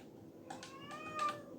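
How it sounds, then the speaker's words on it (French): A cat meows softly a few times in quick succession, short rising cries against a quiet background hum, heard at moderate distance. "vous allez entendre mon chat à chaque fois"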